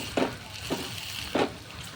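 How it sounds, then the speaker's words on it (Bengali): A chop shallow-fried in a little oil gives a soft, low sizzle, broken by three brief clatters as the pieces are pressed and turned in the pan. No one speaks. "দেখুন আমি অল্প তেলে এই ভাজাটা করছি।"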